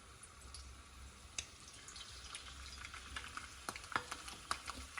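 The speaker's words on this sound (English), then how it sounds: "today I'm frying in avocado oil" Chicken flautas frying in avocado oil give a faint, steady sizzle with scattered small pops and crackles, growing a little busier toward the end, with no talk.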